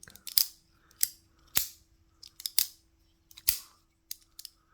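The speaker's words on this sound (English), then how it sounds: "You hear that kind of a click, click, click, click." A folding knife's lock clicks in a ratcheting rhythm as the blade swings, sharp isolated snaps spaced roughly every second with a few quicker double clicks, close and crisp against a quiet background.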